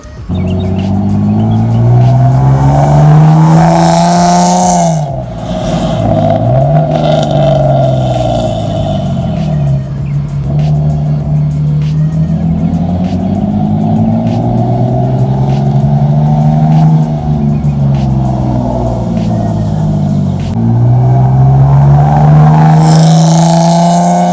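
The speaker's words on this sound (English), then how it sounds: "We're going to do some flybys just so you guys can hear how the Lexus sounds." A Lexus with a $100 eBay aftermarket exhaust roars and revs loudly through the raspy exhaust, the pitch climbing and dropping repeatedly as it accelerates and passes close by.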